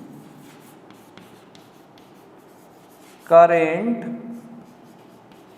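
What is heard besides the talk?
writing on a board during a physics lesson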